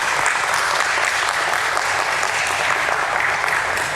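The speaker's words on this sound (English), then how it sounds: "let's begin this beautiful day with a round of applause for the entire team" A room full of people applauds at a stock exchange listing ceremony for NMDC Steel Limited, producing a continuous, loud wash of dense clapping that stays even throughout with no voices standing out.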